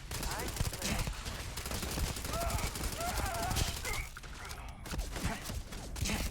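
Gunfire rattles in rapid, dense bursts during combat in the video game Starfield, continuous under game effects with a voice speaking briefly.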